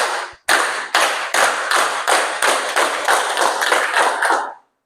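A classroom group claps in unison, about a dozen sharp, evenly spaced claps close by, after a brief pause at the start, then stopping cleanly.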